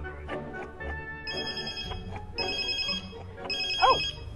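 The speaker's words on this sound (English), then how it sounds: "Oh! It's my phone." A mobile phone ringing inside a car, repeated electronic ringtone bursts with clear tonal chimes over low road rumble, near and fairly loud.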